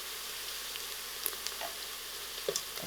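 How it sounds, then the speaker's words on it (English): Cinnamon stick, bay leaf and salt fry in oil in a pressure cooker for mutton curry, giving a steady soft sizzle with a few faint pops and stirring clicks. "Give it a good mix and allow it to fry."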